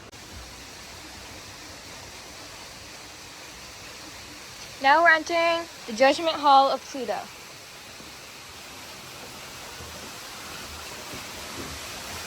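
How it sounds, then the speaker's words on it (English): Constant rushing of a cave waterfall fills the background, a broad even hiss, while a voice speaks briefly in the middle. "You can probably hear the running water in the background."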